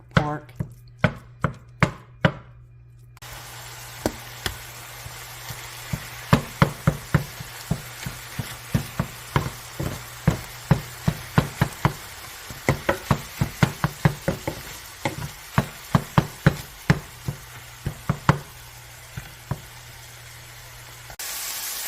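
Lean ground turkey browns in a skillet as a tool breaks it apart, giving dozens of sharp, close knocking chops in an irregular run over a steady low sizzle, with no talking.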